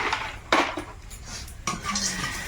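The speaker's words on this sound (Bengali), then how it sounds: "হালকা একটু ভেজে নিই বড়িটা" Bori lentil dumplings fry lightly in a pan, with a couple of distinct metallic clinks and scrapes of a utensil against the pan over a faint background, no voices.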